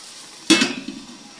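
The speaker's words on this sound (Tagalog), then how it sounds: "Takpan ulit natin." A lid is set down over a pan of eggs frying in a little water, giving one sharp metallic clack followed by a brief rattle as it settles, then a faint sizzle underneath.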